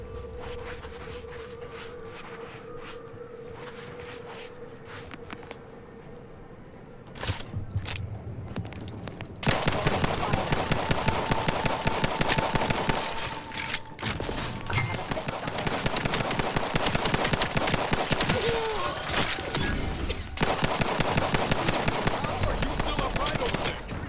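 Sustained gunfire in The Outer Worlds 2, rapid dense bursts of shots that start abruptly after a quieter stretch and continue loudly with brief gaps, layered with crunching impacts.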